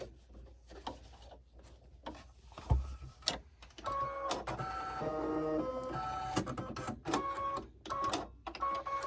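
An embroidery machine stitches a satin stitch with Bro Thread, running a steady mechanical whir with rapid needle clicking and a few sharper knocks, fairly quiet and close, with no voices.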